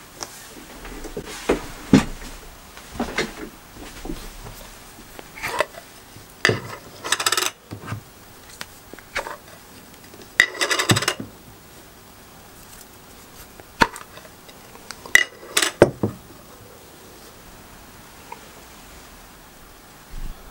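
Lids are popped off glass jars of creamed honey one after another, giving sharp, sporadic clicks and metallic clatters separated by quiet pauses, close by and with no talk.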